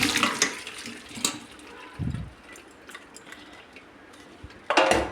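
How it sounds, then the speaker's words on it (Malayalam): Water from boiled taro drains into a steamer with short splashes and trickles, and metal pots and utensils clink between them. The sounds are close and moderately quiet, with a louder burst of clatter at the end. "നമുക്കിനി ഇതൊരു സ്റ്റീമറിലോട്ട് വെള്ളം ഊറ്റി കൊടുക്കാം"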